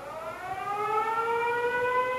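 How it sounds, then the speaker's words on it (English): Air raid alarm tone from a Mi Control Hub 2 home security hub, a steady rising-and-falling civil defense siren wail heard alone and fairly clear for about two seconds. "air raid alarm."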